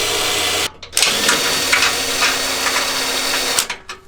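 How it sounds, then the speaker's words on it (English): A loud, steady whirring drill bores holes in a 5th-generation Ford Ranger for skid plates, running continuously, briefly cutting out near the start and again at the end, close up with no talking. "Start with a smaller drill bit."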